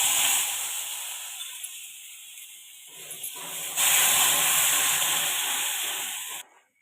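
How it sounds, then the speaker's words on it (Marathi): Milk poured into a hot pan of ghee-roasted bread hisses and sizzles steadily up close, the sizzle swelling partway through and then cutting off abruptly at the end. "दूध घालून घेऊया।"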